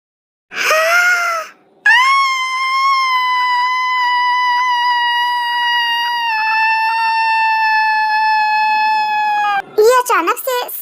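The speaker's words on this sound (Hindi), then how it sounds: "अचानक से सायरन कहाँ बजने लगा?" A loud, steady wailing siren with a strong harmonic tone holds for about eight seconds, preceded and followed by brief shouting voices.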